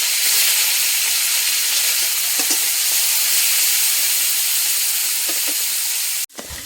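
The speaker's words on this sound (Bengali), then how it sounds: "চিংড়ি মাছগুলো দিয়ে দেবো।" Prawns frying in hot oil in a wok give a loud, steady sizzle that holds at a constant level throughout, with a few faint crackles and pops, then stop abruptly near the end.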